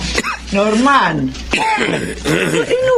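A man in an indoor drama scene gives several harsh, raspy coughs and throat-clearing bursts in quick succession, close and fairly loud, with short breaths between them.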